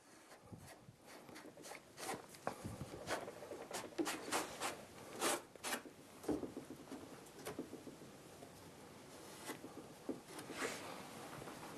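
Excess wood glue being wiped off a freshly clamped door gives a long run of quick rubbing and scraping strokes, close and fairly quiet, in an irregular brushing rhythm.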